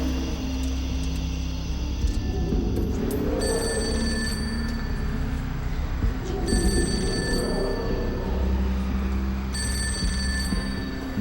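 A telephone rings repeatedly and goes unanswered, three long bell-like bursts spaced evenly over a steady low rumble of background noise.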